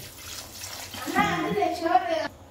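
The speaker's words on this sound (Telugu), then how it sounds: "ఒకసారి చూసుకోండి వాటర్ ఎన్ని పడతాయో చూసుకొనేసి, సరిపోతాయా లేదా చూసి, ఇంకా కొన్ని పడతాయి చూసారా మీరు" Water pours into a mixer jar while goat head curry is being prepared in a home kitchen, a steady splashing hiss running under a person talking close by.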